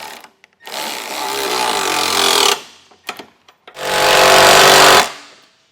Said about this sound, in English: Then we can take a 17 millimeter socket and get them tightened down.